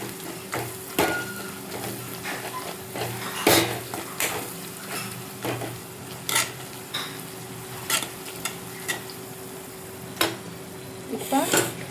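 Garlic pepper kulambu is stirred in a pan, a spoon scraping and knocking against the metal in irregular strokes over a steady low sizzle, close and fairly loud.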